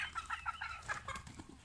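Hens and a rooster, including chocolate-coloured hens, cluck steadily in a farmyard pen, a busy overlapping chorus of short calls close by with no talk.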